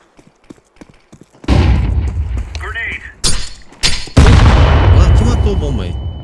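A grenade blasts in Counter-Strike 2 on the Dust2 map, a loud close burst with crashing debris and a long roaring tail, followed by a second heavy boom, with players talking over the game.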